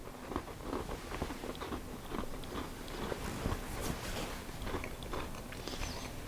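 Steady close-up crunching and chewing of a crisp butter shortbread cookie, dense irregular bites and crumbly mastication continuing for several seconds with no speech.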